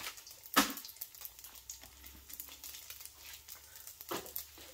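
Vegan chicken pieces drop into hot oil in a wok, giving a quiet, uneven sizzle with a few sharper spits and clatters.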